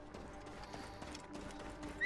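Horse hooves clip-clop in steady rhythm in the video game Assassin's Creed Origins, set in ancient Egypt, quiet and even under a faint backdrop, with a brief whinny-like sound at the very end.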